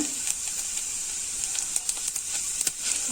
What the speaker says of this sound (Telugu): ఆయిల్ హీట్ ఎక్కింది. కొంచెం మెంతులు, మినపప్పు, జీలకర్ర